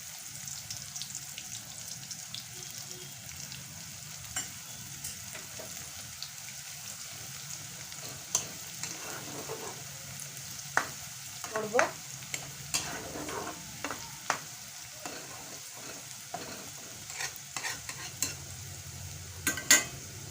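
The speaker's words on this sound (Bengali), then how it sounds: "এখন আমি দিয়ে দেব গরম করা তেল" Papaya cooking in heated oil sizzles softly and steadily while a spoon stirs it, leaving scattered light scraping clicks over a low continuous crackle, with no voices.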